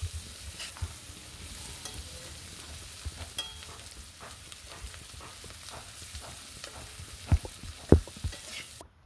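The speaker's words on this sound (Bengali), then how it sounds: "এটাকেও লাল করে ভেজে নেব।" Potatoes seasoned with salt and turmeric fry in a pan. The sizzle is quiet and steady, with scattered clicks and scrapes and a couple of sharper knocks near the end.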